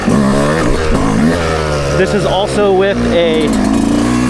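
A 2024 Yamaha YZ125X 125cc two-stroke dirt bike with a Stic Super Torque X2 carb and a roughly 110-octane head revs loudly and continuously for about four seconds, its pitch repeatedly sweeping up and falling back.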